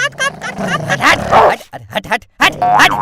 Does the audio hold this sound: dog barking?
yes